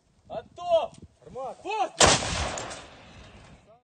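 A single loud artillery gun shot, a sharp blast that rolls off into a decaying rumble, preceded by brief background voices.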